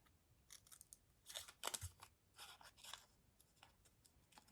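Scissors snip through paper or felt while cutting out an elf ornament shape, a quick run of close, crisp, irregular clicks and crunches heard alone.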